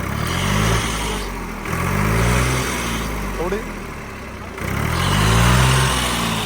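A New Holland 3630 tractor engine runs steadily at close range, its low harmonic drone swelling and easing in a few surges like light revving, with a brief quieter stretch midway.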